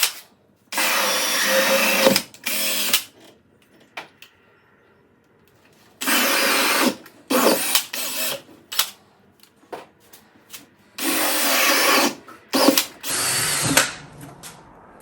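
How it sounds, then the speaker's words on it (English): A worn power drill whirs loudly in several bursts of a second or two while working an old tire, separated by pauses with quieter handling noises. "I really need to get me a new drill."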